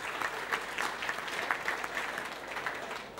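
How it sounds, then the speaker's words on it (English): An audience at a team reunion night for an Australian football club applauds, a steady spread of many hands clapping at moderate distance, fairly faint and unbroken by speech. "Give them a round of applause."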